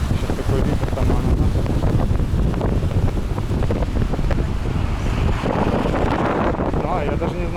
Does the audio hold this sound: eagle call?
no